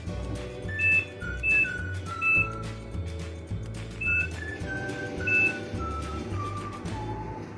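A microwave gives short electronic beeps several times at uneven intervals, accompanied by a sequence of higher descending tones and low background hum.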